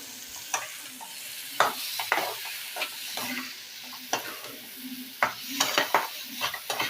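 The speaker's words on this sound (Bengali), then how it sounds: "টমেটোও কিন্তু দিয়ে দিলাম সব উপকরণগুলোকে একসঙ্গে কষিয়ে নিতে হবে" Tomatoes frying together with long beans and the other ingredients for a tilapia poppy-seed dish, a low sizzle broken by repeated scraping and clacking spatula strokes against the pan at an irregular pace.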